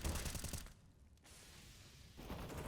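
Pistol fire in the game CSGO comes as rapid, loud, crackling shots in a burst at the start and again after a brief lull, close and dense.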